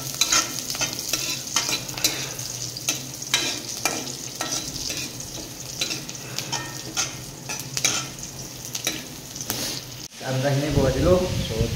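Sliced onions fry in hot oil in a pan with a steady sizzle, broken by frequent scraping stirs, and a voice speaks briefly over the cooking at the end.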